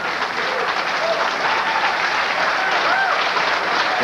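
A crowd applauds a shot at a 1995 professional pool match, steady loud clapping that fills the whole stretch while a commentator talks over it.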